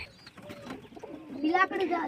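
Pigeons coo softly in short warbling phrases, rising toward the end, fairly faint and close with a low murmur of background noise.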